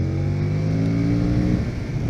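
A KTM 1290 Super Duke twin-cylinder motorcycle accelerates with a loud, steady engine drone and a stack of strong harmonics that climb slightly before turning rougher near the end, heard close up with no talking.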